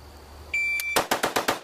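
A shot timer gives a sharp electronic beep, then a handgun fires five rapid, evenly spaced shots in under a second, each crack loud and close.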